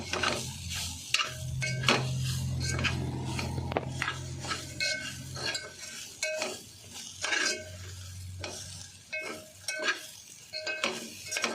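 Meal maker chunks stir-fried in a pan, village-style cooking, as a spoon repeatedly scrapes and clinks against the vessel in irregular strokes over a low sizzle, close and fairly quiet.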